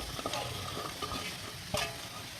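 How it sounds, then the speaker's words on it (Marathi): Mixed chopped vegetables being stirred into frying masala over a low flame, a close, dense sizzle with quick scraping strokes of a spatula against the pan and a sharper scrape near the end. "आता या भाज्यांना छान असं मिक्स करून घ्यायचं आहे मसाल्यांमध्ये"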